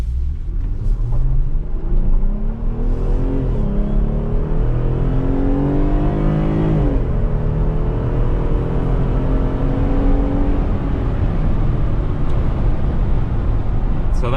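A Jeep Gladiator truck with a V6 engine accelerates hard, its engine note climbing steadily in pitch, dropping briefly at a gear change, then rising again under a constant low rumble, loud and close from inside the cabin.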